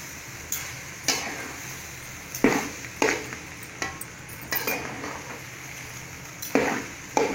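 Cauliflower chilli rice stirred in a pan with a spoon, repeated scraping and clinking strokes at an uneven pace over a faint sizzle, close and fairly loud.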